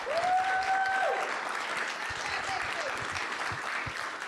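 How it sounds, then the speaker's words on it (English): An audience at a jazz talk event gives a round of applause for upright bass player Andy Powell, with close, steady clapping that thins toward the end and a brief tone near the start. "could you all please give a big round of applause for Andy Powell?"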